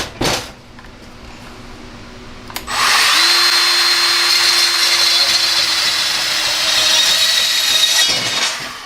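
RIDGID 18-volt compact band saw cutting stainless steel: a short burst, then the motor starts and the blade grinds steadily through the metal with a constant whine for about five seconds before stopping.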